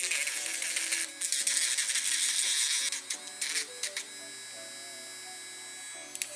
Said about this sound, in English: file the inside of them using a sanding band